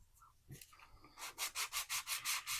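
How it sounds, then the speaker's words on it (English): Fine-grit sandpaper rubbing along the edges of a wooden craft piece, a faint scrape at first, then about eight steady back-and-forth strokes, close and fairly loud. "sand these edges ever so slightly, just so that way they blend into the wood a little bit better"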